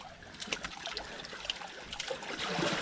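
Water trickles and splashes softly nearby as something is washed in a river, with small irregular drips and sloshes and no voices.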